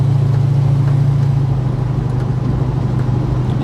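A Holden HK car drives along with its engine running, a loud, close, steady low drone that holds a constant hum with slight variation, with no talk over it.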